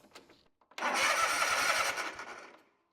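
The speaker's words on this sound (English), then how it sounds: "when I turn the key to crank, now the engine's going to spin" A car's starter cranking the engine over during a starter solenoid test: a faint click, then one loud, sustained grinding burst of about a second and a half that fades out, with no talk.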